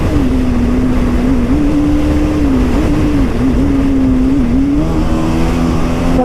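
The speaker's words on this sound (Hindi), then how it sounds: "खतरनाक मजा आ रहा है यार बाइक भगाने का।" A Royal Enfield Bullet motorcycle speeds along a road through traffic, its engine a loud, steady drone with a wavering pitch that holds under constant wind rush throughout.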